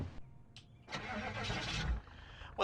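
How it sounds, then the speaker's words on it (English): Station wagon engine in Project Zomboid cranks and catches, a broadband surge of mid-range engine noise lasting about a second before settling, fairly close with a short click beforehand. "the station wagon's engine turns over reassuredly"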